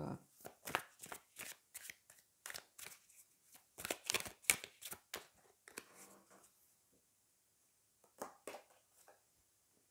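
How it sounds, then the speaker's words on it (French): Tarot cards shuffled by hand: a rapid run of crisp riffling and slapping card sounds, close and fairly quiet, thinning out toward the end with a few final taps as a card is drawn. "On va prendre une carte."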